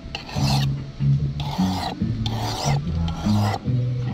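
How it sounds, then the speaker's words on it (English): A fish knife is drawn repeatedly across a sharpening stone in quick rhythmic rasping strokes, close and clear, about eight passes with no talk. "I like to use a sharpening stone."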